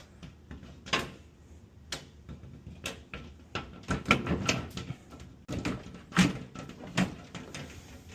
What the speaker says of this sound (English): Take this door, we will go ahead and put it on the back track.